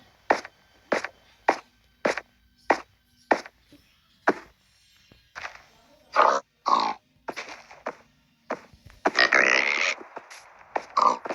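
Short grunting snorts repeat in a steady rhythm, then come in rougher, louder bursts, like a game pig grunting with nothing else around.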